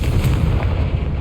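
A Confringo blast spell detonating in Hogwarts Legacy, a loud, booming explosion with a dense low rumble filling the whole short moment, with no voices over it.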